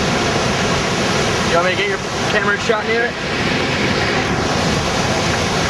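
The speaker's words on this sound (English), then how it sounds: "This is absolutely amazing. All this falling water." Broad, steady roar of Niagara Falls' plunging water fills the whole stretch at close range, with people talking over it partway through.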